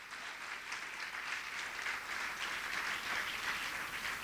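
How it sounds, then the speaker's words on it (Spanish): A church congregation claps and applauds during a Saturday special service, a sustained wash of many hands at moderate distance, steady and fairly even for several seconds with no speech over it. "Dale un aplauso al Señor."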